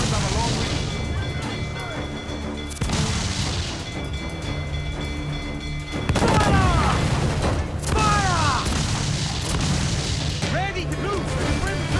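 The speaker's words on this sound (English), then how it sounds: "Those cannons have a long reach." Fort cannons firing in Assassin's Creed IV Black Flag, heavy booms landing repeatedly amid naval battle noise, with shouted voices and swooping effects over a constant loud background.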